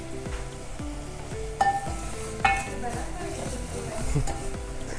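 Vermicelli being fried in hot oil in a home kitchen, steady sizzling under a low droning background, with a few sharp utensil clinks and scraping stirs.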